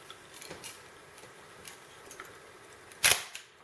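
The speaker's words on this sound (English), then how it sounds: "It has a vertically traveling metal shutter." Chinon SLR camera with a vertically traveling metal focal-plane shutter fires one crisp, sharp snap near the end, after a stretch of soft handling clicks. The sound is close and has no voice over it.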